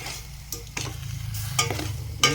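A spoon stirs beef stew with added sugar in a hot pot, giving a steady close sizzle broken by several sharp scraping strokes.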